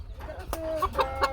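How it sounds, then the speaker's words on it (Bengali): A large rooster of about one and a half kilograms clucks at close range, giving a few short throaty calls in quick succession. "এই যে দেখেন খুব সুন্দর বড় সাইজের মোরগ"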